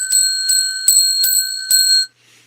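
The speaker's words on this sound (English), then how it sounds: "We got 10 rings of the bell." A small bell is rung five times at a steady, roughly half-second pace, each strike bright and ringing, close and loud, then falls quiet.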